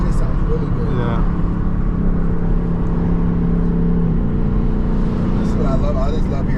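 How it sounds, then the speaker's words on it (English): A 2024 Ford Mustang GT V8 engine runs steadily and loud, a deep rumbling drone that holds its pitch, with a short rev near the start and people talking over it. "I just love hearing the engine"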